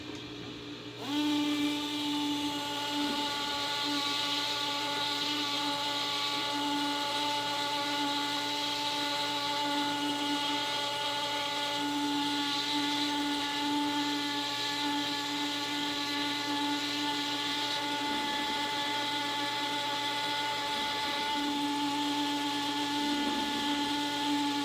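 An air abrasion tool blasts rock matrix from a Tyrannosaurus rex fibula fossil, giving a steady, loud high-pitched whine and hiss that runs without a break, with no talking.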